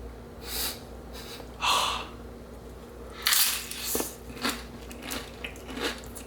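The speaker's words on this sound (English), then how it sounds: "you get that crunchiness from this crispy rice cracker that has like a lot of sesame" Bites into a crispy sesame rice cracker served with Vietnamese baby clams, several separate crunchy snaps close to the mic among breathy sniffs and exhales, no speech.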